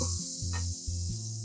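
Onions sizzle in a hot pan just after lamb has been browned in it, cooking a Welsh national dish: a steady, bright hiss runs throughout over a low, humming tone.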